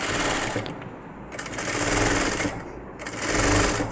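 A sewing machine stitching lining cloth onto an Aari-work blouse, running in three loud whirring bursts with brief pauses between them, close and clear.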